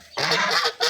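Ducks quacking at a rural wetland where they have been brought to feed, a dense burst of overlapping calls from a small flock, fairly close, with a brief pause before another loud burst.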